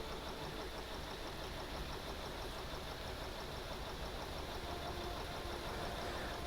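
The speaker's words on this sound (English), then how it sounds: "Oh, I left my engine idle this whole time?" A video game vehicle's engine idles steadily, a constant low rumble with faint knocking texture that stays even and unbroken throughout, close and moderately quiet.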